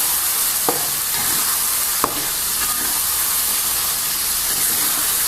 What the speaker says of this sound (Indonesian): Kita aduk lagi sampai dia rata.